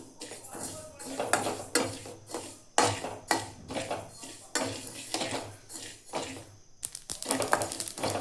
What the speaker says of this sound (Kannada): ಈಗ ನಾನು ಒಂದು ಪಾತ್ರೆಗೆ ಒಂದು 20 ಗ್ರಾಮ್ ಗಸಗಸೆ ಇರುವ ಇವನ್ನ ಹಾಕ್ಕೊಂಡು ಮೀಡಿಯಮ್ ಒಳಗೆ ಇಟ್ಕೊಂಡು ಹುರ್ಕೊಳತ್ತೀನಿ